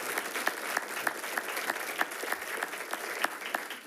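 A modest crowd at a school board meeting claps for Conrad, soft steady applause with a few sharper individual claps standing out at a regular beat, heard from a little distance.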